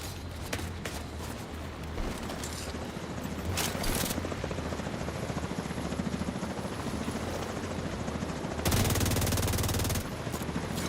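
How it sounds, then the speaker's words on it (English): Helicopter in flight within The Division 2 shooter game, a steady rotor drone running throughout alongside bursts of gunfire, with sharp loud shots near the start, around four seconds and a sustained burst late on. "Yeah, helicopter's in motion."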